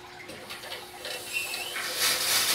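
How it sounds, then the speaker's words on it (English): Water from a garden hose tap begins filling a test tank, a faint hiss and splash that grows steadily louder and brighter toward the end, with no talking. "all I'm gonna do is just turn this thing on, get some water in here"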